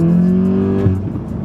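A car engine revs hard in third gear, tuned to spit exhaust flames. The loud, close, droning roar drops off sharply with a pop near the end.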